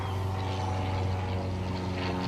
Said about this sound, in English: And there's a plane up there.